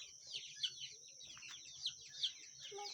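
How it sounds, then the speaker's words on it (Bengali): Young chickens on a small poultry farm chirp in short, high peeps at scattered moments, fairly faint against a quiet indoor background. "আমাদের মুরগিগুলো"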